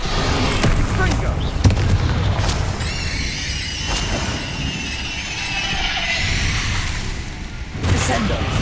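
Spell explosions in Hogwarts Legacy combat, with booming impacts and crackling magical blasts over a dense, busy game mix, and voices talking throughout.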